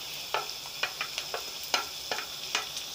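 Tomatoes fry in a pan over a medium-high flame, giving a steady hiss with light, irregular clicks of stirring, close and fairly quiet with no voices.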